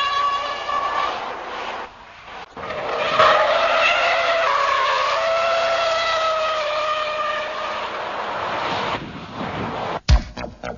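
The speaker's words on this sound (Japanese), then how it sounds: "土屋選手の恵比寿サーキットドリフト全開走行をじっくり研究しよう" Stock turbo Mazda RX-7 FC drifting hard through a corner at Ebisu Circuit, tires squealing loudly and continuously over the engine's roar for several seconds before a sharp knock near the end.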